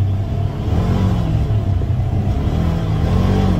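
Polaris Ranger XP 1000 side-by-side accelerating hard in performance mode, a loud, steady engine roar and rumble rising slightly in pitch, close and continuous with no talking.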